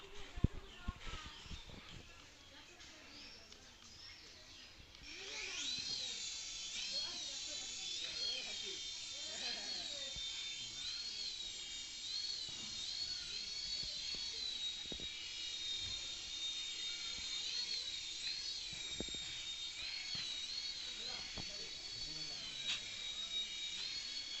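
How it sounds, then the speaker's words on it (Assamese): A few clicks and handling noises, then a small Exceed RC helicopter rotor spins up into a high, steady whine with a slightly wavering pitch, close by. "হেলিকপ্টাৰটো অন কৰি দিছোঁ।"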